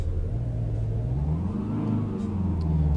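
A Volkswagen Passat with a 120-horsepower 1.6 diesel engine drives in Euro Truck Simulator 2, a steady low engine rumble that rises and eases as the revs shift, heard alone and close.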